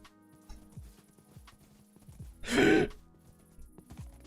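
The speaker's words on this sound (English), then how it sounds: "Oh, hello there, Mr. Horse." Horse hooves clip-clopping at a steady walking pace in Minecraft, soft repeated thuds with a short breathy snort or whinny in the middle, no talk.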